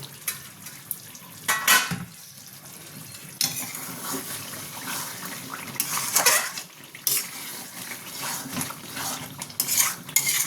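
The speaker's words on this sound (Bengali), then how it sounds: "এরপর আমি ঢাকাটা সরাবো।" A lid comes off a pot of home-style chicken chaap after ten minutes of covered cooking, followed by clattering cookware, utensil scraping and stirring, with faint sizzling underneath; sharp metallic knocks recur throughout.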